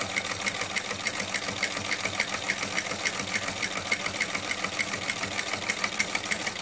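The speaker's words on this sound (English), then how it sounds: "So this is a really skinny buttonhole. So I'm making my second pass here." A Singer sewing machine fitted with a buttonholer attachment stitches a narrow buttonhole, giving a steady, rapid mechanical chatter that runs evenly and close throughout, with no talking.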